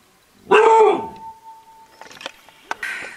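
A small dog gives a loud, close yelping bark followed by a thin sustained whine, then scattered softer yips and rustling noises.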